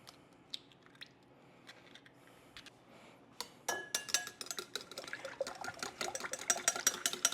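Two eggs are whisked in a mixing bowl, with a few sparse clinks at first and then rapid, continuous tapping and clattering of the whisk against the bowl, close and moderately loud.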